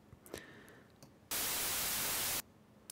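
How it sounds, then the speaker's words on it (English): Plain white noise from a noise plugin, a loud flat broadband hiss that switches on abruptly, holds perfectly steady for about a second, then cuts off, set between quieter stretches of faint clicks and low background sound. "I'm just going to insert a noise plugin."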